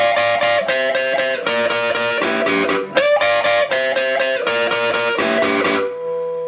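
Distorted electric guitar playing a fast rhythmic riff of chords and notes, loud and close, with a brief pause before ringing out at the end.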